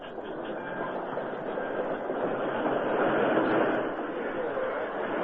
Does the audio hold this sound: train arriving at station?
yes